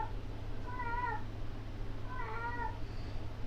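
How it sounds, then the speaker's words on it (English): A female cat in heat meows indoors, two drawn-out wavering cries about a second apart, set over a constant low background hum. "I apologize for the cat in the background"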